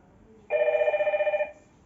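A Hikvision DS-KIS602 intercom rings for a call: a single bright, warbling electronic trill lasting about a second, loud and close against a quiet background.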